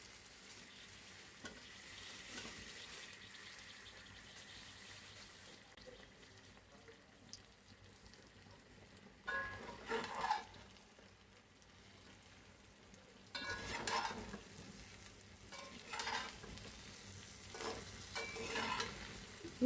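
Beef, still icy from the fridge, fries in spiced oil with a soft continuous sizzle broken by louder bursts of stirring and scraping, fairly quiet and with no talk.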